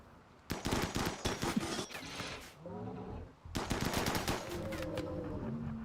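Video game gunfire in two rapid automatic bursts separated by a short lull, close and fairly loud, with a tonal game sound ringing between and after them.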